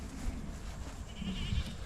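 A newly arrived cow calls out loudly in a barn, one drawn-out bellow rising above steady low background rumble, close and alone with no talk.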